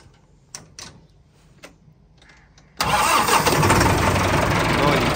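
A Massey Ferguson 385 4x4 tractor, left standing for many days, is started: a few faint clicks and a brief voice, then the diesel engine catches abruptly and settles into a loud, steady close-up idle.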